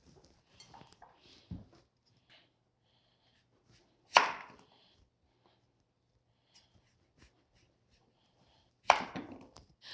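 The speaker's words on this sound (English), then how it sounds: "Slice them lengthwise, and what I like to do is just go down like that and cut them into cubes." A knife cuts rutabaga into cubes on a cutting board in a quiet kitchen. A few sharp, isolated chops land several seconds apart, with faint handling noises between them.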